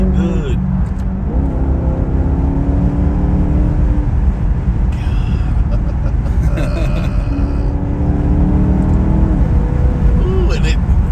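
A Maserati Quattroporte GTS engine drones loudly from inside the cabin while accelerating, with quick gear shifts breaking the rising tone, as occupants talk over it.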